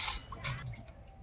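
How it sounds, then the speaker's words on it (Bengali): Water poured into a wok for boiling taro makes a brief, faint splashing rush followed by a few light drips. "কচু সিদ্ধ করার জন্য কড়াতে জল দিয়ে দেব।"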